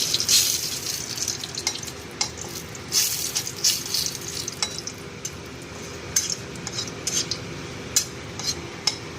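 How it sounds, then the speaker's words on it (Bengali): Eggplant frying in mustard oil in a pan, a steady soft sizzle under repeated clinks and scrapes of a utensil stirring, with sharp metallic taps throughout. "আমি ফোড়নটা তুলে বেগুনটা ভেজে নিলাম, সর্ষের তেলে ভেজি"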